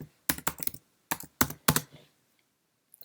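Keystrokes on a computer keyboard typing a terminal command on a Mac, a short burst of crisp, close clicks with brief pauses between them, then near silence.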